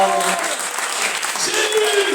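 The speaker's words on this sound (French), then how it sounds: "Est-ce qu'on peut applaudir pour la gloire de Dieu?" A church congregation claps in dense, sustained applause, loud and close, filling the room.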